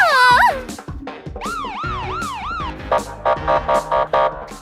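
A cartoon police car siren wails in loud, rising and falling sweeps, followed by a faster pulsing yelp, with no talk over it.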